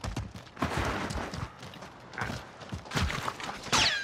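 Gunfire rings out in a video game set at a quarry, several sharp cracks scattered among footsteps and movement, moderately loud with a quiet stretch in the middle.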